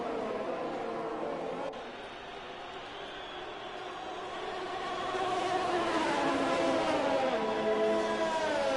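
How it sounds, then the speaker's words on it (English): A Formula 2 race car engine in iRacing struggling through its gears, with a whining, droning tone that sags and then climbs steadily in pitch as it accelerates, loud and continuous. "You just hear Kevin's car just dying with those gears."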